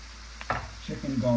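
Chopped chicken dropped into a frying pan with sautéing onions and zucchini, a soft thud and rustle followed by a rising sizzle, close and moderately quiet.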